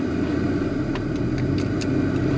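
A 1988 Ford LTD Crown Victoria with a five-speed manual drives along, its engine giving a steady mid-pitched hum with road noise from inside the car and a few faint clicks, with no talking.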